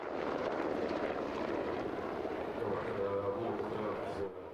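A Croatian Air Force UH-60 helicopter at an airshow in Varazdin gives a steady, broad rotor and engine roar, loud and continuous, easing slightly toward the end, with a voice talking over it.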